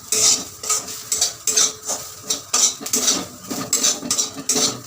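Grated coconut being stirred as it lightly fries in a pan, with repeated scraping and clinking strokes of a utensil against the metal in a steady rhythm over a soft sizzle, close up.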